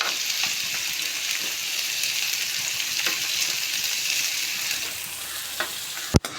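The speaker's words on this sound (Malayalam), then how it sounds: "എണ്ണ ചൂടാകുമ്പം ആദ്യം ചെറുതായിട്ട് അരിഞ്ഞ് വെച്ച ചെറിയ ഉള്ളി പൊരിച്ച് കോരി ഇടണം" Chopped shallots fry steadily in hot oil, a dense, even sizzle lasting throughout with a few soft stirring clicks, ending in a sharp knock near the close.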